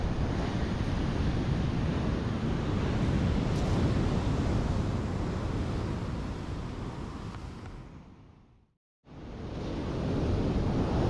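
Ocean waves wash steadily onto Seruni Beach in Donorojo, Pacitan, a dense, continuous roar of surf mixed with wind buffeting the microphone, dropping briefly to near silence before the surf noise swells back in.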